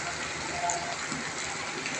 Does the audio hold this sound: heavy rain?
yes